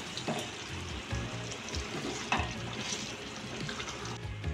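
Dhaba-style chicken fry masala sizzles steadily in a hot pan as it is stirred, a continuous close hiss with occasional scraping and clinks from the spoon.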